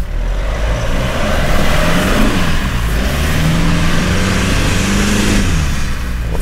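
A 2021 Toyota Fortuner in four-wheel drive strains loudly up an off-road climb, the engine revving hard in a sustained, wavering roar with rising and falling pitch and no speech.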